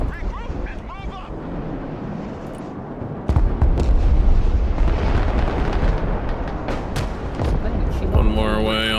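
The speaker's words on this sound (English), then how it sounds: "Nice artillery." Artillery fire in the video game Broken Arrow, with heavy booms and rumbling blasts that swell midway into a dense barrage of explosions, along with game radio chatter.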